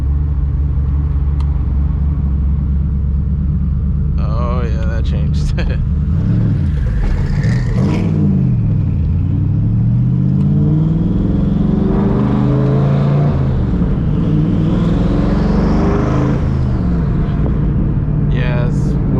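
Ford SVT Cobra with exhaust cutouts open: a loud, deep engine rumble with rising and falling revs while driving, heard from inside the car, with a brief spoken remark over it.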